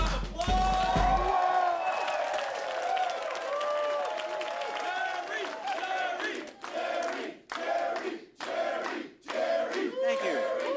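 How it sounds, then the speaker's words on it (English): A studio audience on a comedy film set bursts into sustained, loud applause and cheering on cue, a dense crowd roar of claps and whoops that later breaks into shorter bursts. "Here we go in 3, 2, 1, applause!"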